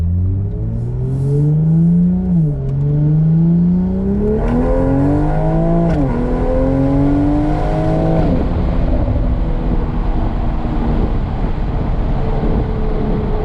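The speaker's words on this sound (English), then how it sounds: "I hear turbo noises. The exhaust is not loud, but it sounds really good." A tuned Toyota Supra engine revs up through rising pitches, with a whistling turbo whine over a deep exhaust note, then settles into a steady drone.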